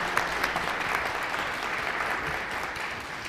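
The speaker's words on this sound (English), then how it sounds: "I want everyone to give one more round of applause" A room of people at a San Antonio city council meeting breaks into steady, dense applause, a continuous wash of clapping that holds evenly throughout.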